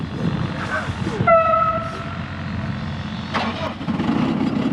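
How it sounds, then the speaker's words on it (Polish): A JCB backhoe loader engine cranks and catches during operator training, a brief whining starter tone giving way to a steady loud diesel rumble, close by with faint talk nearby. "to uruchamiamy silnik"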